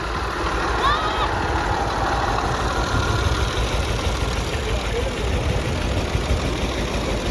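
A tractor engine idles steadily through a wheat harvest scene, a continuous low rumble that stays fairly loud and unchanging throughout, with faint voices in the background.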